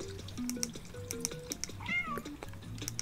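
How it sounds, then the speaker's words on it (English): A cat meows in the video game Stray, a short rising-falling meow in the middle, heard over soft background music with faint ticks and chimes. "I forgot he can meow."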